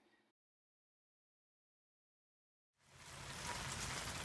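Steady rain falls on a rain garden fed by roof runoff, starting after a short pause and building to a dense, continuous hiss of drops that stays loud and even to the end.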